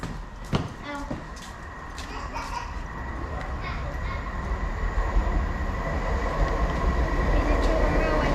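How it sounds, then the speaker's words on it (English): A Chiltern Railways train at a Metropolitan line station on a line shared with the Underground, its low rolling rumble steadily building toward the end, with faint voices and some brief clatter in the background. "Is it Chiltern Railway train?"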